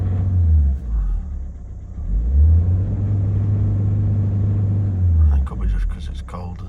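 An old car engine, with an unchanged fuel filter and old petrol, runs roughly close by, its low note rising and falling in uneven revving swells before settling into a lumpy idle.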